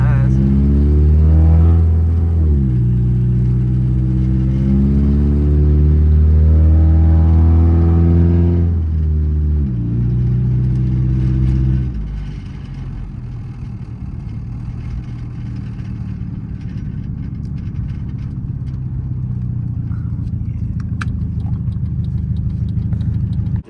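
A car engine runs while driving, holding a steady harmonic drone, rising in pitch as it revs, then dropping to a lower, rougher idle-like rumble with faint ticking.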